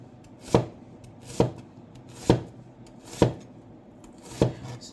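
A knife slices onion into thin julienne strips on a board, five sharp thuds at a slow, slightly uneven pace, close and clear with no one talking.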